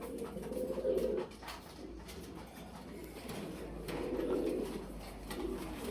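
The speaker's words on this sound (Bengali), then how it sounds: "এগুলো আসলে কবুতর ভাই, অনেক ভালো মানের কবুতর ভাই" High-quality breed pigeons at a farm coo softly and repeatedly in low, rolling phrases, faint against a quiet background hum.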